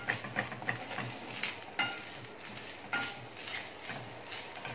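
Grated fresh coconut sautés lightly in ghee for modak filling, with a gentle sizzle under repeated stirring scrapes and soft taps of the spoon against the pan.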